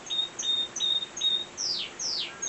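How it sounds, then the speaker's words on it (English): Caged birds singing indoors in a birdroom, with repeated short, bright chirps and a couple of rising whistled notes, close and clear with no talking. "some of the birds have been singing in full voice all day"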